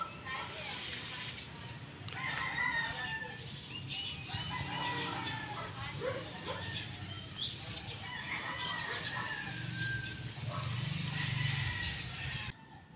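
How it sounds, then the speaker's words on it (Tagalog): Birds chirping and calling near a nest fallen from a tree, thin calls scattered through the scene and mixed with people talking nearby and outdoor background noise. "Ayun ayun yung mga ibon."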